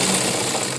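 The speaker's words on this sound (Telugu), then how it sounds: "ఇలా స్ట్రేట్గా వచ్చే విధంగా ఇలా పట్టుకొని ఇలా మనం కుట్టాలండి." Sewing machine stitching the pant part of a blouse, a brief, loud, continuous whirring run with no talk.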